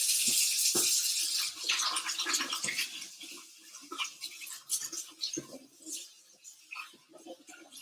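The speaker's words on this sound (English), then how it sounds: "I'm going to wash my hands because there's melted butter on them." A tap runs while butter-coated hands are washed in a home kitchen during Easter baking; a close, steady rush of water opens the clip and fades into scattered clinks and light knocks.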